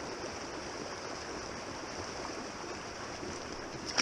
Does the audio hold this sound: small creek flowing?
yes